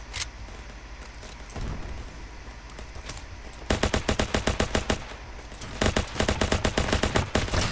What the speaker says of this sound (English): I'm going to once again take this MG.